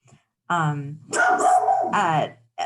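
A dog barks and whimpers in a few loud, close yaps and howl-like cries during an online meeting, with short quiet gaps between bursts.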